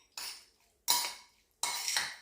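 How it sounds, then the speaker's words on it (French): Salmon being mixed with lemon in a bowl for a Catalan salad: three separate clinks and scrapes of a utensil against the dish, each with a short fading tail, close and fairly quiet with no talk. "Je vais mélanger mon saumon à mon citron."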